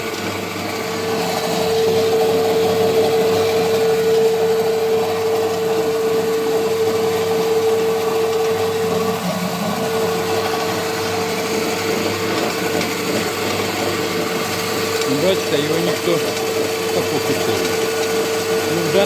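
A pellet mill granulator's electric motor runs at a constant speed, producing a loud, steady machine drone with a sustained hum that continues unbroken for the whole stretch.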